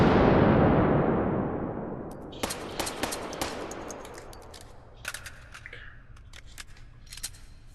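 PMR-30 pistol fired in the VR game H3VR, a loud blast or explosion that decays over two seconds, then a scatter of sharp, quick shots at varying distances trailing off.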